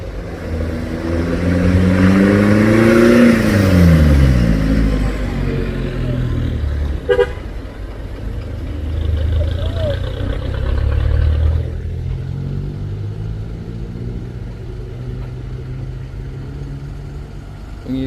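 A car drives in and revs on a hillside road at Bukit Kodok, its loud engine rising and falling in pitch. A sharp horn toot sounds midway, and the engine then settles into a steady, fainter rumble.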